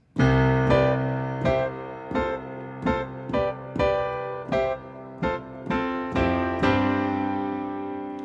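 Piano chords struck with both hands, a low bass note sounding first and then fuller chords in a steady rhythm, each ringing briefly before the next.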